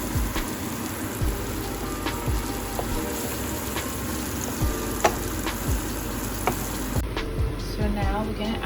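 Ingredients for a coconut fish curry sautéing in a pan, a continuous close sizzle with intermittent clicks and scrapes of stirring, with some faint background voices.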